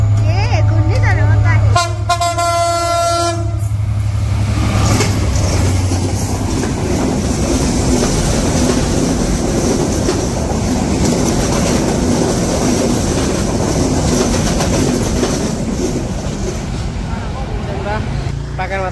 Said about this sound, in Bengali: তো দেখি ট্রেন দেখা যায় কিনা।